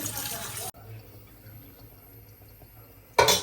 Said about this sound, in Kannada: ಚೆನ್ನಾಗಿ ತೊಳಿತಾ ಇದ್ದೀನಿ